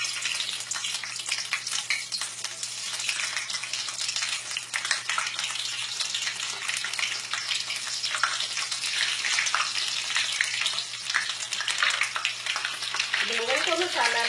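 Eggplants deep frying in hot cooking oil in a wok over medium heat, a steady, dense crackling sizzle that runs the whole time with a faint hum underneath.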